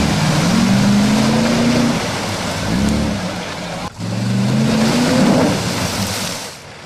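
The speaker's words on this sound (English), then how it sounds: "Brian, our trip leader, wasn't able to winch himself out of the bog hole, so he decided to reverse back out of it" A 4WD vehicle reversing out of a muddy bog hole, its engine droning and rising in pitch in repeated surges over sloshing, churning water, loud and close throughout.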